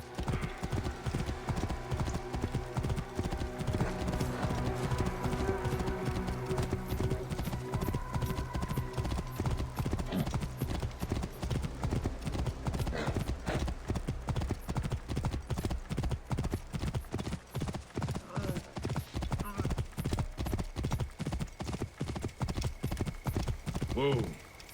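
Steady, rhythmic clip-clop of horse hooves from the video game Assassin's Creed Origins, running continuously and fairly loud, with someone talking over it and brief horse noises.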